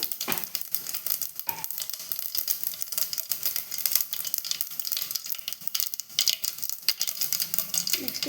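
Mustard and cumin seeds sizzle steadily in hot oil for a South Indian puri sagu, with a continuous bright crackle and occasional popping bursts close by, and no voices.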